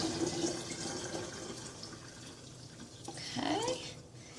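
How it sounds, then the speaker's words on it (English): Water poured from a container into a jar while brewing homemade kombucha, a soft continuous splashing and trickling that swells near the end, close and moderately quiet. "I'm just going to carefully dump it into the jar"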